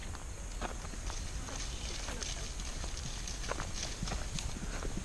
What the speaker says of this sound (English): Turned out to be just some cows.